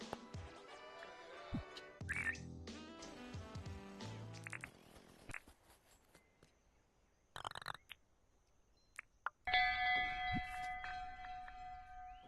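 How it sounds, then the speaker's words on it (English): The town bell rung in the video game Dinkum, a bright, clear chime amid other game effects and short musical tones, a few separate rings spread across a quiet stretch, with no one talking. "I have to ring the bell myself because my bell ringer isn't around anymore."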